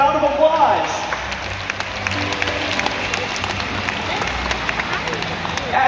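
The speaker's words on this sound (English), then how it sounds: "Go ahead and give yourselves a round of applause" Crowd in the stands at a SeaWorld San Antonio killer whale show clapping, a broad, fairly loud wash of applause mixed with crowd hubbub and amplified voices.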